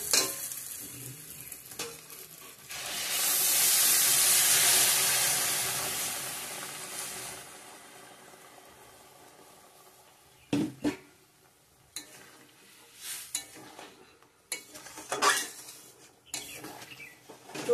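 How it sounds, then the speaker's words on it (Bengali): Potato curry broth hisses and bubbles in a pan after water is added to the spiced potatoes, a loud sizzling swell followed by scattered spoon clanks against the pan. "ঝোলটা ভালো করে ফুটে উঠছে,"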